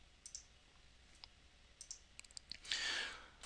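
Computer mouse clicking through on-screen buttons: a sparse run of small, crisp clicks at an uneven pace, close and quiet, then a brief louder hiss near the end.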